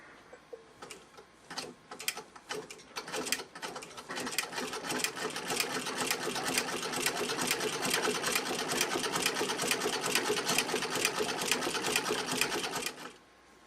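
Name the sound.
vintage straight stitch sewing machine sewing a zigzag stitch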